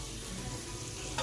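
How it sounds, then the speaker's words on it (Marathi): Chillies frying in a pan in a home kitchen, a brief steady sizzle heard close up, with a small knock right at the end. "इकडं मस्त मिरच्या चालू आहेत फ्राय"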